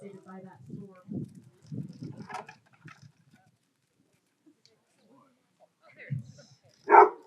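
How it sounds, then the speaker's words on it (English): A search and rescue service dog gives a couple of short barks and yips, fairly faint and spaced out, with people talking intermittently around it at an outdoor ceremony. "he is a fantastic service dog"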